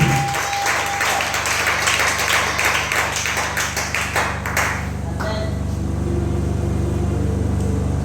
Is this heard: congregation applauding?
yes